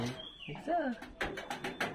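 A pigeon coos briefly at close range in a backyard loft setup holding adult birds and chicks, its soft warbling notes mixed with a voice talking alongside.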